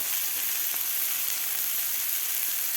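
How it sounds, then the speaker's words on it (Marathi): Tomatoes frying in a pan for masala toast, a steady, even sizzle with a hissy crackle throughout and a faint tap or two, close and without speech. "टोमॅटो सुद्धा आपल्याला 1 मिनिटभर व्यवस्थित परतून घ्यायचं आहे."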